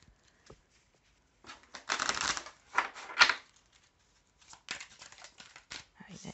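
Oracle cards are shuffled by hand in a few short, papery riffling bursts, with quiet gaps between them.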